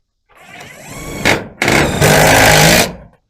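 A power drill driving long 3-inch screws into the wooden frame of a chicken coop: a motor whine that rises, a brief pause, then a sustained louder burst of high-pitched whirring as the screw sinks home, close by.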